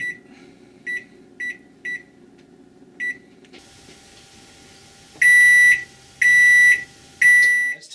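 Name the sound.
oven timer beeping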